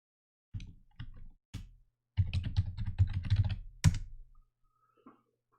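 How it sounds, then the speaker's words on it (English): Keys clatter on a computer keyboard as an email address is entered, first a few isolated presses, then a fast burst of close, crisp typing that ends with a louder final tap. "I'm going to type the email address"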